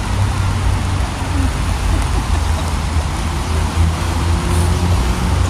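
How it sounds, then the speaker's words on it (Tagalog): Steady rain hissing over a street, with a low rumble of passing traffic and engine drone underneath, continuous and fairly loud. "Ulan eh, maulan kami."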